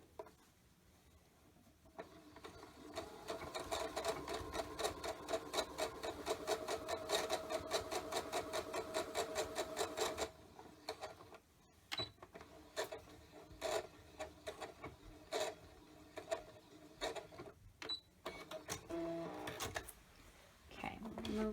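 A sewing machine stitches the end of a dress strap in a fast continuous run, stops, then starts again in short bursts, with a voice speaking at times.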